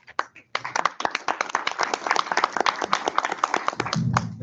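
A modest indoor workshop audience claps for a few seconds, a dense patter of many hands that rises and then trails off.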